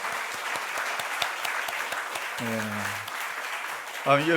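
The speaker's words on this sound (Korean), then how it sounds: "우리 큰 축복의 박수 한번 하도록 하겠습니다" A church congregation at a Sunday communion service claps to encourage the middle and high school youth group, a moderate, continuous patter of applause. A voice speaks briefly partway through and again near the end.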